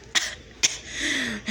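Two quick, sharp sneezes from a voice acting out a sick Toad plush toy, about half a second apart, followed by a sustained tone.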